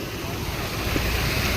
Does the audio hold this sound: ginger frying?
no